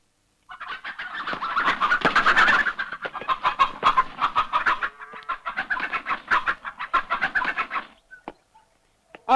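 Chickens clucking and squawking loudly while being plucked, a rapid run of agitated cackling bursts close by that breaks off near the end, leaving near silence.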